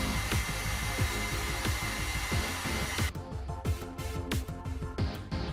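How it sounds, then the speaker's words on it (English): A heat tool blasts hot air over solvent-laden weathering paste on a model tank's tracks, a loud, steady blowing roar with a fluttering motor hum that runs unbroken throughout. "Apply heat to get rid of the solvent."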